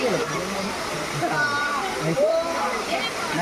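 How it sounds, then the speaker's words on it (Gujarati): Steady rushing wash of a hidden waterfall at Pavagadh fills the background, continuous and fairly close, while a person talks over it throughout. "જ્યાં વોટરફોલ ધોધ પડી રહ્યો છે"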